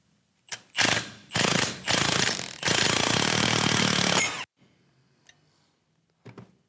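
Parts of a Jatco JF011E (RE0F10A) CVT pulley assembly springing loose after the snap ring comes off, a series of loud, close bursts of clattering metallic rattle and grinding, ending in a long sustained burst before fainter knocks.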